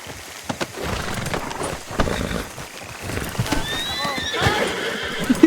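Horse hooves clip-clopping and a horse whinnying in Red Dead Online, steady hoofbeats running throughout with a neigh near the end, while people talk over the top.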